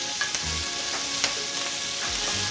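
Filet mignon topped with herbs sizzles steadily in a hot pan on the stove just after being flipped, a continuous close frying hiss with a few faint clinks and no talking.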